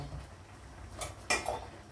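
A cooking pot of jap chai soup with pork is lifted and moved, giving two quick, soft metallic clanks against a quiet kitchen background.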